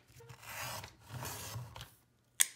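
Scissors cut paper for a junk journal pocket in two short close rasping snips, then a pause and a brief sharp click at the end.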